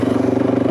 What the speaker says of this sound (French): je donne un petit coup de gaz